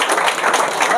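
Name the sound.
audience applauding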